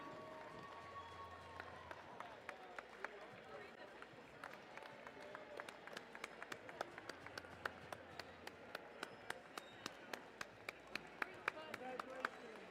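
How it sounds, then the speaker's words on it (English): Scattered, uneven clapping from a small audience at a FIRST robotics district event at Lake Superior State University, sharp individual claps picking up in density over the second half, with talk underneath. "big round of applause for, again, team"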